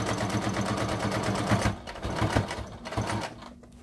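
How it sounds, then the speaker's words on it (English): A sewing machine stitches a curved seam on a fabric face mask with a steady, rapid mechanical whir and thump that runs without a break, close and fairly quiet, with no voices. "if you're not used to sewing curves, make sure you take your time"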